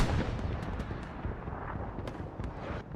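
A Katyusha rocket artillery strike in the video game Hell Let Loose on the Kharkov map, heard as a dense, continuous roar of rumbling detonations with sharp cracks scattered through it, loud and sustained.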